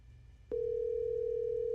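Outgoing telephone call, a single steady ringback tone starting abruptly after a brief quiet moment and holding unbroken to the end.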